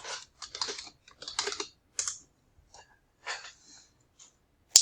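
Someone types a career field into a database search box on a computer keyboard, with quick irregular bursts of close key clicks and brief pauses, ending on a sharper tap.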